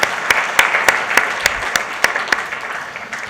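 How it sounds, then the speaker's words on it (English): Applause from the audience at the Global Citizen India Festival 2016: a loud, full burst of clapping punctuated by several crisp, prominent claps at a steady pulse, gradually thinning as it dies down over about three seconds. "We want to applaud you."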